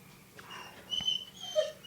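A dog whines softly indoors, with thin high whimpers and a few faint yips close by in a quiet room.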